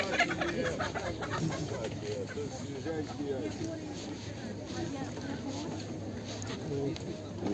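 Chickens cluck and chatter at a busy outdoor market while people talk over them in a steady, crowded murmur.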